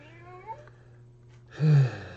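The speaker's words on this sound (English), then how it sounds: "My cat Pumpkin is meowing a lot in the background." A cat meows indoors, with one short call early on and a louder, longer meow near the end, heard over a steady low hum.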